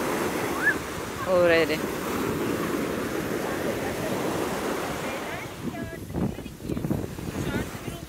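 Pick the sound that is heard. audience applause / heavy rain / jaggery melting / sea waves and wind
sea waves and wind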